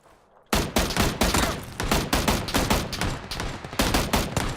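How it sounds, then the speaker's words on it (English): Rapid bursts of automatic gunfire from a weapon in the video game PUBG, loud and close, beginning after a brief quiet moment and continuing in dense repeated volleys with short gaps between them. "Look, I'm just shooting."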